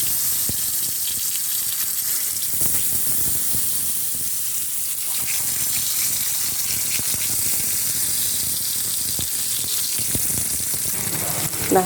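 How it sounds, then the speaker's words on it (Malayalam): Pieces of elephant foot yam fry in hot oil in a Kerala home kitchen, a dense, continuous loud sizzle with fine crackling and occasional pops that holds steady throughout. "ചേനയെല്ലാം ഇട്ടിട്ടുണ്ട് ഇത് ഈ എണ്ണയിലേക്ക് ഇടുമ്പോൾ സൂക്ഷിക്കണം കൈ കൊള്ളാൻ സാധ്യതയുണ്ട്"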